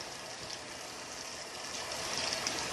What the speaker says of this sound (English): Swirling until that water runs clear off my hand.